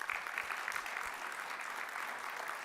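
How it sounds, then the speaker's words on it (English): An audience at a mining industry panel gives a sustained round of applause, a fairly soft, even patter of many hands heard from a distance that continues steadily throughout. "A big round of applause for the Undersecretary."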